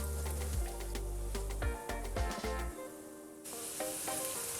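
Plantains frying in a pan over medium heat, a steady close sizzle running throughout with a few brief clinks and shifts in between, no talking.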